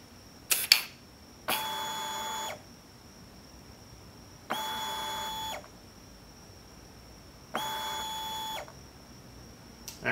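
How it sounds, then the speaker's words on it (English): Electronic power valve of a 2024 KTM 300 EXC two-stroke cycling during calibration: three separate mechanical whirring bursts, each about a second long, spaced a few seconds apart over a quiet background with a steady faint tone. "you could hear the power valve moving during the calibration"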